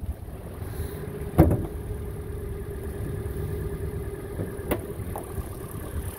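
A 2013 Hyundai Elantra engine idles at a steady, even hum, heard from nearby with a couple of brief clicks and knocks over the smooth drone.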